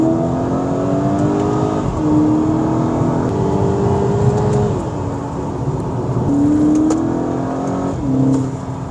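A VW Golf GTI MK6 accelerates hard through several gears, its engine note climbing and then dropping at each shift, loud and close throughout.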